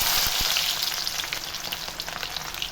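Finely chopped shallots and onions sauté in hot oil in a pan for kuzhambu, giving a loud, continuous close sizzle with a few brief stirring knocks at the start.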